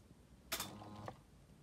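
A brushless motor, belt-geared down about 2.5 to 1, drives a head through a short move: a faint brief whirring burst, then a second quieter whir, with silence around them.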